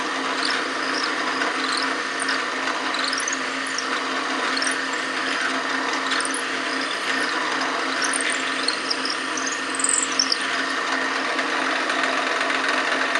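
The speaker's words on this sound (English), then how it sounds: "I'm just going to drill each one about halfway down" A drill bores ferrule holes in a wooden Telecaster guitar body, a continuous steady whine close up, running without pause and with no talking.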